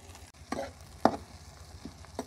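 Onions fry for aloo kofta curry in a pan, a soft steady sizzle broken by a few scraping stirs of a spatula, close by and fairly quiet, with no voices.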